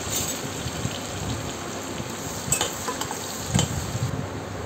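Ginger garlic paste frying in butter with cumin for paneer bhurji, a steady close crackling sizzle with a few stirring clicks, continuous and fairly quiet.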